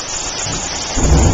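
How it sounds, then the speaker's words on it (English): Heavy rain pours down steadily with rumbling thunder beneath it, the downpour swelling louder and deeper toward the end of a short, dense stretch with no voices. "Big rain drop everywhere."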